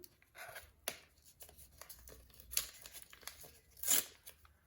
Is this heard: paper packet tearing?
yes